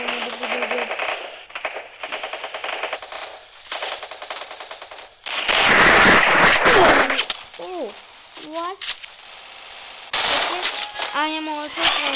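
Rapid automatic gunfire in the mobile shooter Free Fire, loud and close, with dense bursts of shots and sharper blasts in the middle, while a player's voice talks over parts of it.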